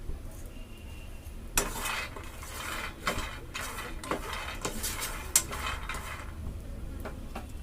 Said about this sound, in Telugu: ఇప్పుడు ఇందులో మనం పల్లీలు వేసుకొని వేయించుకోవాలి